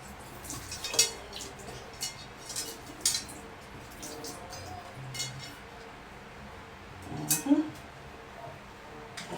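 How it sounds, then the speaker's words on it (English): Pot being rinsed out in a home kitchen before frying plantains, with scattered clinks and knocks of metal, light splashing and dripping, fairly quiet and close. "So now I'm rinsing out this pot to go ahead and fry them plantains."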